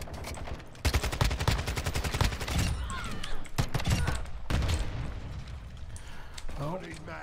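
Rapid automatic fire from a Kastov-74u submachine gun in a first-person shooter game, loud, dense bursts lasting several seconds with short pauses between strings of shots.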